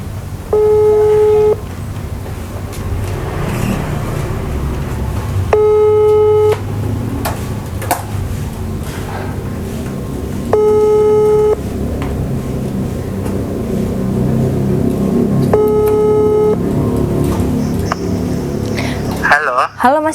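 A telephone ringback tone sounds while a call is being placed: four evenly spaced tone bursts, each about a second long and roughly five seconds apart, over steady background noise, ending with a click as the line connects.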